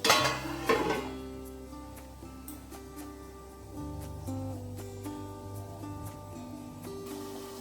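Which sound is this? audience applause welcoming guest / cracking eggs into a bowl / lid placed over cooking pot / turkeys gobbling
lid placed over cooking pot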